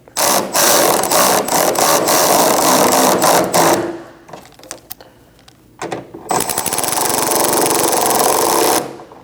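A power ratchet or drill snugs up fasteners on a 2020-2027 Toyota Corolla inner tail light, producing loud, rapid mechanical whirring bursts, with a gap of brief clicks in the middle before another long run.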